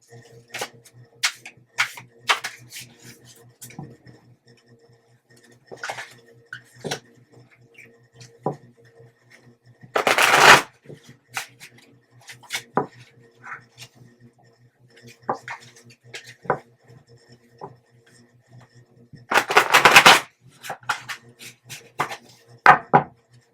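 Tarot cards are shuffled in quick riffling bursts and soft taps, with two longer rushing riffles standing out, close to the microphone in a quiet room.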